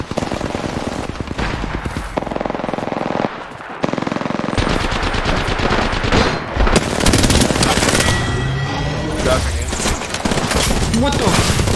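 Gunfire in the Apex Legends video game on the World's Edge map: dense, loud automatic bursts and rapid shots nearly nonstop, with a player talking over the action.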